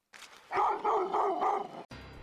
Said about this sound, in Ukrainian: Лише собака кидається на непроханих гостей.